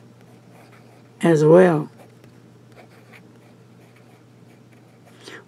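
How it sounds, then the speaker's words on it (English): A Pilot Prera fountain pen with a fine nib scratches softly across paper, a faint, steady stroke sound, broken by a short spoken phrase. "But this nib writes really nice"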